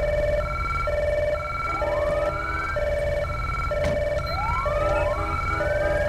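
Wailing two-tone police siren from GTA 5 LSPDFR, alternating high and low tones evenly for several seconds, with upward-sweeping yelps joining in, close and prominent with no talk.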